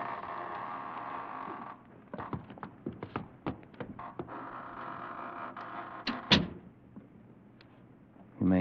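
An old door swings open with a drawn, grinding creak, followed by a string of sharp knocks and clicks from its latch and hinges, then a brief louder thud near the end.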